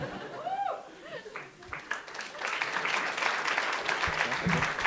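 An audience at a women-in-tech hackathon final bursts into applause with scattered laughter and chatter, the clapping building after a brief pause and continuing strongly to the end.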